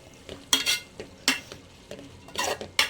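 Banana flower and drumstick leaf poriyal with dal and grated coconut stirred in a pan, a series of close, crisp scraping and clinking strokes of a spoon against metal in an uneven rhythm.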